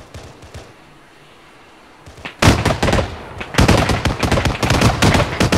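Gunshots in a military shooter video game come after two quiet seconds of low ambience, then erupt into loud rapid bursts of automatic fire that pause briefly and resume in quick, sustained volleys.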